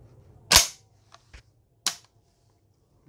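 Turkish 5-shot repeater shotgun with a 28-inch barrel and fiber sight being loaded: one sharp loud metallic snap, a couple of faint light clicks, then a second crisp clack, with no talking.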